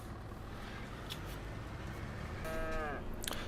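Cattle lowing in the farming video game Farming Simulator 25: one drawn-out moo rising near the end over a steady low background hum of farm machinery and ambience, with no talking.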